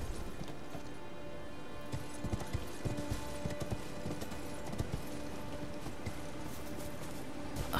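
Galloping horse hoofbeats from riding in Elden Ring, a steady rapid clip-clop close up over a constant game ambience bed, with no talk.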